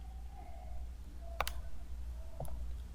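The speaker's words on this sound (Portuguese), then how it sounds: "Vamos agora com o atalho no teclado Windows R." Two sharp computer keyboard clicks while pressing the Windows R shortcut, spaced about a second apart over a quiet background hum.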